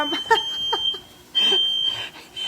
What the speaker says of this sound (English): when I cook, my fire alarm sets off because my vent for my microwave does not work